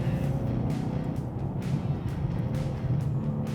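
A BMW M2 coupe with a manual gearbox and rear-wheel drive accelerates, its engine droning loud and steady from inside the cabin, with a few gear-change dips.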